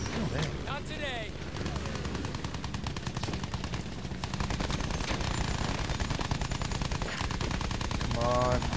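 Sustained machine-gun bursts in a Battlefield 1 World War I aerial battle, dense rapid rattling fire continuing throughout under a roaring engine and music, with a voice speaking over it at moments.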